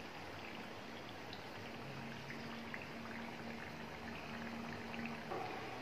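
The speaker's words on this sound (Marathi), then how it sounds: "दुसऱ्या बाजूने पण छान अशा मंद आचेवर खरपूस तळून घ्यायचे आहे" Chandrakala sweets deep-frying in oil over a low flame, a faint, steady sizzle and fine bubbling that carries on evenly throughout without a voice.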